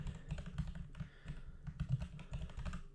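Quick, uneven keystrokes on a computer keyboard as a command is typed at a terminal, close and fairly quiet clicking with short pauses between bursts.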